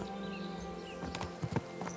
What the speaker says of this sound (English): Maybe I should ride him around a little bit.